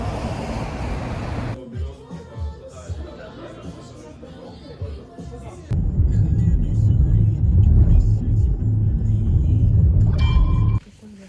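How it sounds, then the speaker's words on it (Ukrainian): Loud city-centre traffic rumbles by continuously, with cars passing close and a heavier vehicle roaring louder midway before it briefly quiets. "я в центрі і тут їздять голосно машини."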